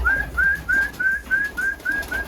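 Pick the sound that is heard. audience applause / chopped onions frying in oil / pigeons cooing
pigeons cooing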